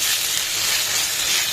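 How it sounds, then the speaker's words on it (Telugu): Ginger garlic paste sizzles in a hot pan for egg fried rice, a steady bright hiss of frying without pause or voices. "ఇప్పుడు జింజర్ గార్లిక్ పేస్ట్ వేసుకుందాం. ఇది కూడా మిక్స్ చేసి కొంచెం ఫ్రై అనిద్దాం"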